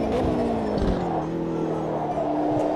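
Race car engine droning steadily at Monza in a racing video game, a continuous loud engine tone with shifting pitch throughout, no pauses.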